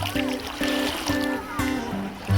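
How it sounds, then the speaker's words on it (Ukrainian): Small waves lap and splash rhythmically against the lake shore of Blue Lake near Kamianske, Ukraine, about every half second, over a steady low wash of moving water; fairly close. "послухати оці сплески води"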